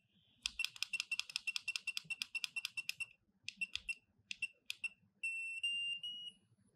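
A B6 NEO portable LiPo charger connected to a 6S 1550mAh LiPo battery gives a quick run of sharp, rapid beeps, a few separate chirps, then one longer sustained tone, close and clear in a quiet room.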